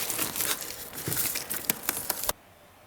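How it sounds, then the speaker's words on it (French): Protective film being peeled slowly off adhesive tape during snap parquet flooring installation, a close crackling, rasping strip of noise with small ticks that stops abruptly. "retire lentement le film du ruban adhésif"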